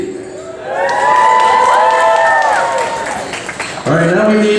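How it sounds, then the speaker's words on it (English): Wedding guests at a reception cheer and whoop loudly with shouting voices rising over scattered applause, the crowd noise swelling, briefly dipping, then surging again. "Have a nice round of applause for Daniel Yee."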